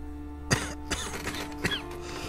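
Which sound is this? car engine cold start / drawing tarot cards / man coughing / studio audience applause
man coughing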